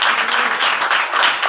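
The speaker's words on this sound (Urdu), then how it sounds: "ذرا تالیاں" A church congregation at a Wednesday meeting applauds: loud, dense, continuous clapping from many hands throughout, with no pause.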